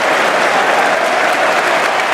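Audience applause breaks out at a snooker match during the Masters quarter-final, a steady, dense wash of clapping filling the hall for about two seconds with no voices over it.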